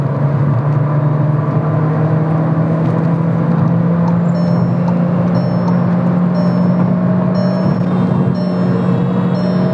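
A Skoda Kushaq Monte Carlo with the 1.5 TSI EVO engine, driven hard on the road with a steady, loud engine drone from inside the cabin and a sustained tone that climbs slightly as the engine revs on a downshift.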